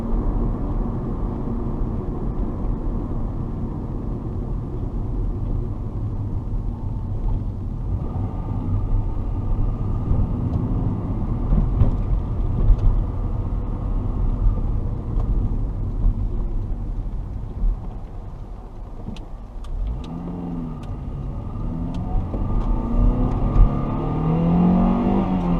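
A 2002 Honda Civic Si on a night test drive, engine accelerating at about quarter throttle from 0 to 70, a steady rumbling drone with gradually climbing revs under continuous road noise inside the car.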